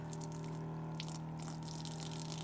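A small electric water pump runs steadily after being switched on, pushing water into a pipe on a Jayco caravan, with a constant close hum and faint trickling.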